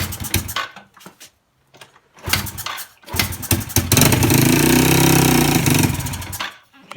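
Yamaha TTR110E dirt bike from 2011 cranked over in a few short stuttering attempts, then catching and revving up loudly for a couple of seconds before cutting out, heard close and alone.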